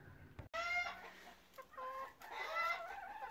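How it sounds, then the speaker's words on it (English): Layer hens on a smallholding cluck and call nearby in short, quiet bursts, several overlapping murmurs over a low, calm background. "I just thought we'd check in very briefly with my layer hens."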